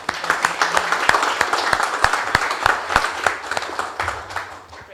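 A smallish audience at a blockchain and finance panel discussion claps, distinct individual claps forming a loose, uneven patter rather than a roaring wash, fairly close and moderately loud.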